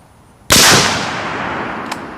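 A single sharp rifle shot fired with steel case ammunition, loud and close, ringing out with a long decaying tail, followed by a faint distant crack about a second and a half later.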